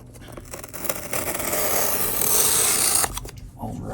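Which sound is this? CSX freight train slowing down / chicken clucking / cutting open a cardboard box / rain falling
cutting open a cardboard box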